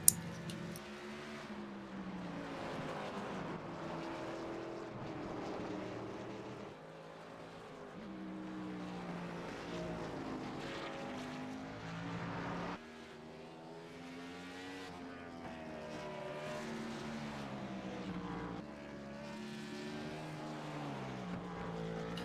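Chevy SS race car engine roaring around the Nordschleife in iRacing, a steady high-revving drone that climbs and drops with repeated gear shifts and throttle lifts, loud and close for the entire run with no voices.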